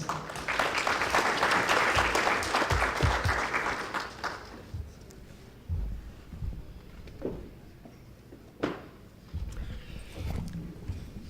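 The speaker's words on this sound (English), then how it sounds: "Ladies and gentlemen, please give him a warm round of applause." Warm applause from an audience welcoming a speaker at a radio astronomy talk, loud and dense for about four seconds, then fading into scattered claps and room noise.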